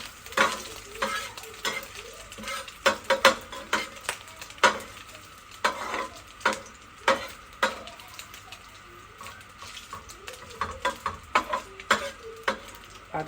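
Ghee or oil melts in a hot pan while a utensil scrapes and stirs it in irregular strokes over a faint, steady sizzle, close and fairly quiet, with no voices.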